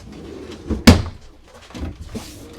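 A dresser drawer at the foot of the bed in a 2026 Forest River Cherokee Sabre 36EST RV bedroom slides and shuts with one sharp, close knock, followed by softer rubbing and a lighter bump.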